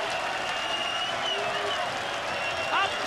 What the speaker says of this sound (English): Absolute wonderful applause for 2 great stars.